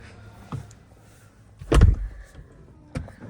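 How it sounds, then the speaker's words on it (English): Soft-close door on a 2025 Bentley Continental GT pulling shut, a muffled thud with a brief motorized whir, flanked by fainter clicks before and after inside the car. "You have nice soft closed doors here."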